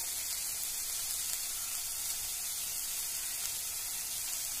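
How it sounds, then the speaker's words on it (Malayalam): Coconut oil poured into a hot pan of vegetable thoran, a steady, soft sizzling hiss that holds evenly with no talk. "ഇനി കുറച്ച് വെളിച്ചെണ്ണ ഒഴിക്കാം."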